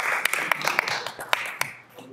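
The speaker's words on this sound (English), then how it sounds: "And let's give little Bella a little bit of a clap there." Light clapping from a small audience in a city council meeting chamber, a brief patter of hand claps that quickly tapers off, heard mixed with a voice speaking.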